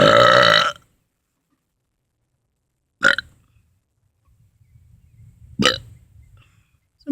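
Three loud burps after drinking soda: a long, resonant belch at the start, then two short sharp ones a few seconds apart, with near silence between them.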